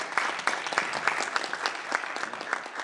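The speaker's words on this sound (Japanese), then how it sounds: "もう一度大きな拍手をよろしくお願いします" An audience applauding after a lecturer finishes at a presentation event, a continuous, even wash of many hands clapping at moderate volume, heard alone without talk over it.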